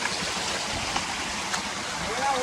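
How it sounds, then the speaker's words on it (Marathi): Water rushing steadily in a stream, a continuous broadband flow heard close and fairly loud with no pauses. "नाली झऱ्यावरती पोचलेलो आहे."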